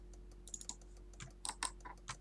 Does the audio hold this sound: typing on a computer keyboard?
yes